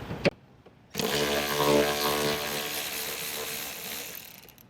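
A power ratchet on an extension works a fastener loose on the front bumper of a 2018-2021 Lexus LC500. After a sharp click it starts a steady, close whirring drone that holds to the end without voices.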